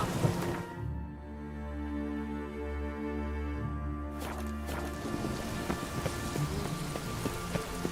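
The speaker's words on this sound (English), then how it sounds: "It's raining" Steady rain in The Witcher DLC, a dense hiss of falling drops that continues throughout, layered over a low droning tone that fades out midway, leaving scattered patters and ticks.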